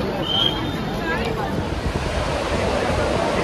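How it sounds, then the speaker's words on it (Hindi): The Mandakini river rushing below a bridge on the way to Gaurikund, a steady broadband roar of flowing water close by, with faint voices mixed in. "नीचे ये नदी फ्लो कर रही है मंदाकिनी रिवर"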